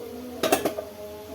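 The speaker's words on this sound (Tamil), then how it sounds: "இப்போ இந்த மூடி எடுத்துடலாம்." A metal lid lifted off a cooking pot of simmering chow chow, a quick cluster of three or four close clinks and rattles, then quiet.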